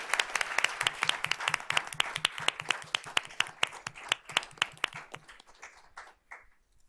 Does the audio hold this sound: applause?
yes